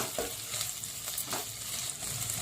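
Dried prawns frying in oil in a covered pan give a steady, close sizzle and crackle throughout, with no one talking.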